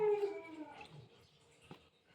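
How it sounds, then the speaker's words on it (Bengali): Dogs howl outdoors: one drawn-out, wavering howl sounds clearly at the start and fades within a second, followed by quieter low whimpers and a faint short yelp. "বাইরে কুত্তাগুলো প্রচণ্ড জ্বালাই গো"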